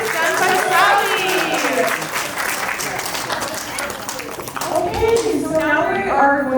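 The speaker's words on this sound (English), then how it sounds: "Can we have another round of applause for that performance done by Sally?" Applause from a crowd at a birthday party after a performance, a dense, loud clatter of many hands running on under chatter and children's voices.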